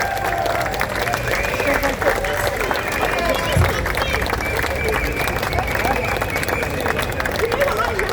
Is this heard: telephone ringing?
no